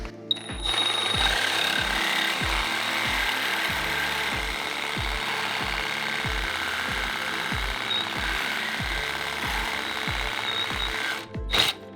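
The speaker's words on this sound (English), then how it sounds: "So this is the Sawzall that I've been using, the Milwaukee Fuel M12." A Milwaukee Fuel M12 Sawzall cuts through a rear control arm bushing sleeve on a Lexus IS300, a loud, steady reciprocating buzz with a fast rhythmic chatter that runs for about eleven seconds before stopping.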